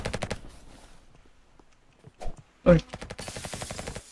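Machine gun fire in the Roblox game RF Legacy, with rapid sharp bursts at the start and a louder close volley near the end, separated by quiet; a man briefly exclaims.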